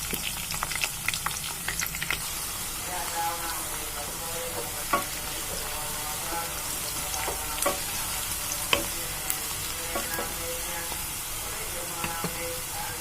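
Chopped onions and four sliced green chillies frying in a pan for a drumstick masala curry, a steady close sizzle with occasional stirring scrapes and crackles, no talking.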